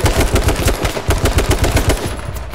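Loud, close automatic gunfire in the video game H1Z1, rapid bursts of evenly spaced shots repeating over and over, then tapering slightly toward the end.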